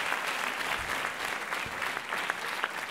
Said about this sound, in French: Merci beaucoup, Yannick. On l'applaudit.